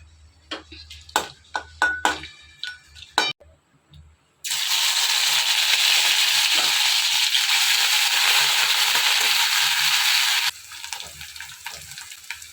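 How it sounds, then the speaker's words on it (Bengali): Dried red chillies with whole spices, cinnamon and cloves, tempering in hot oil in a pan, first giving a few sharp crackles and pops, then a loud, steady sizzle that holds for several seconds before cutting off. "এদিকে কড়াইতে তোমার শুকনো লঙ্কা আর গোটা গরম মশলা ফোড়ন দিয়েছি"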